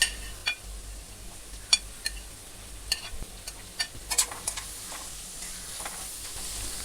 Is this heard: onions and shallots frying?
yes